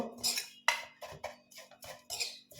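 Raw mango pickle being stirred with salt, heard as a series of short scraping and clinking strokes of a spoon against a bowl, close and fairly quiet, with a faint steady hum underneath.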